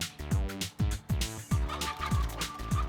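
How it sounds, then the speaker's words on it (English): A chicken clucks in a series of about five rhythmic, evenly spaced calls. It is close and clear, with a steady tonal background underneath, in a children's adventure set in Aotearoa. "you're a chicken"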